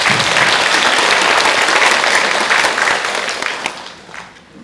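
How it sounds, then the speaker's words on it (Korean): Audience applause at a national long-term care organizations' policy seminar held at the National Assembly, loud and steady crowd clapping that fades out toward the end. "박수로 맞이해 주십시오."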